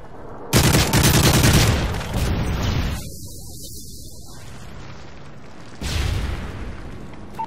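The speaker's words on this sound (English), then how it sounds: "Friendly Predator missile inbound." A Predator missile strike in a video game sets off a loud booming blast with rumbling gunfire and debris, then fades to a quieter stretch before a second burst of explosive noise.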